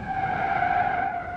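A BMW X1 in BeamNG.Drive braking hard, its tires skidding in a steady, loud squeal that holds for over a second without a break.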